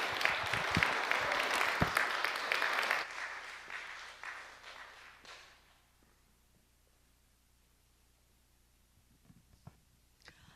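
A church congregation applauds to welcome a missionary to the front, clapping full and dense for several seconds before thinning out and fading into near silence.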